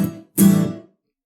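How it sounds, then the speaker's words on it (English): An acoustic guitar gives two quick staccato up-strums in a dance rhythm, each cut short by a fast mute, close and clear with a brief gap between them. "So those 2 staccato ups sound like this."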